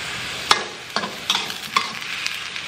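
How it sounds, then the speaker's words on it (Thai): Cauliflower and broccoli being stir-fried in a pan with a splash of added water: rhythmic spatula scrapes and stirs about every half second over a constant loud sizzle, with no voices. "แล้วก็จะผัดตัวผักอันนี้ให้มันสุกก่อนนะคะ"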